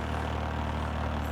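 A model steam engine spinning rapidly, a steady low hum and whir held at an even level, fairly quiet and without talk.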